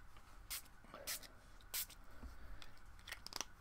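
Short bursts from a spray can hit lace doilies being grunged up, several hisses spaced unevenly over a quiet room, with the can sputtering rather than spraying evenly.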